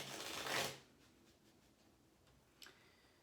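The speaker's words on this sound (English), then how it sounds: "I want to give this one more shuffle." A single brief riffle of tarot cards being shuffled, soft and close, followed by quiet and a faint tap near the end.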